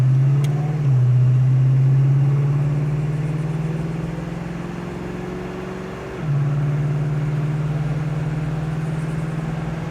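A 1967 Oldsmobile 442 convertible engine pulls steadily under acceleration, its drone climbing before the automatic transmission shifts with a clear drop in pitch, then building again, loud and close with no talk.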